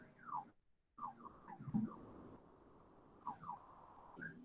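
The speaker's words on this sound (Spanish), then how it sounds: "Está sonando la alarma de la otra." An electronic alarm sounds from another room in a medical setting, faint and distant, with repeated falling chirps in short bursts.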